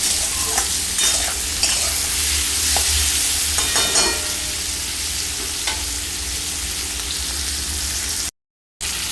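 Star fruit chutney gets stirred in a hot pan with a loud, dense sizzle and scattered spatula scrapes. A brief dropout of silence comes near the end.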